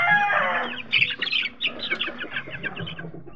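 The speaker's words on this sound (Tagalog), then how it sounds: "Yan yung sisiw natin mga boss idol." Young chicks peep in quick, high, repeated cheeps, loud and near at first and then a steady run of short calls with faint background rustling.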